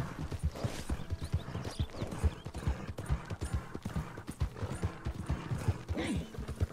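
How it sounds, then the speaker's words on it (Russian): A horse in the video game Red Dead Redemption 2 gallops at a quick, steady pace, hooves clip-clopping in a continuous rhythm, fairly close and moderately loud. "Так, ладно, лошадь устала,"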